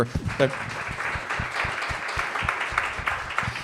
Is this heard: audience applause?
yes